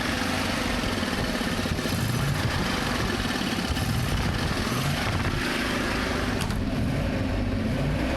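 An old abandoned bus engine runs with its fuel pump switched on, giving a loud, continuous, rough rumble that holds steady throughout with no talk.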